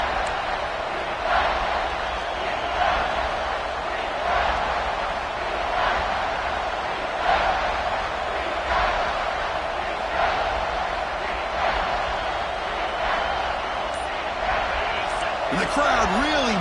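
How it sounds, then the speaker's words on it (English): Steady roar of a stadium crowd cheering throughout an NCAA football video game, with a commentator talking over it in rhythmic bursts. "the crowd really making some noise now"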